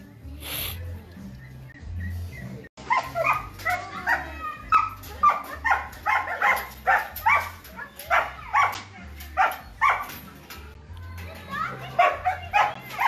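A puppy yips, barks and whimpers in quick repeated bursts, fairly close, with children's voices and chatter around it.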